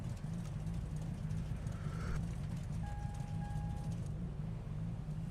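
A car engine in the Redline RP video game rumbles low and steady, with a brief tonal whine partway through, continuous and without speech.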